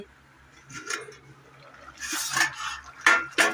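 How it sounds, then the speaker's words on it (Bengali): A lid comes off a pot of ghugni cooking on the stove, giving a few close metallic clinks and scrapes, then bright clattering ring and a rush of bubbling hiss as the pot opens. "5 মিনিট হয়ে গেছে, আমি এবার খুলে দেখছি।"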